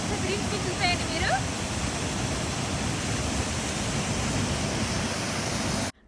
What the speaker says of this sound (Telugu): చూడండి బ్యూటిఫుల్ వాటర్ ఫాల్ ఐస్లాండ్లోని అద్భుతంగా ఉన్నది.